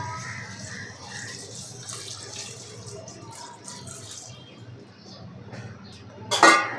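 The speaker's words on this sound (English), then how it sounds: "Now I'm going to add the water." Water poured into a pot of rice for chicken pulao, a soft splashing stream rising near the end after faint kitchen rattles and background sounds.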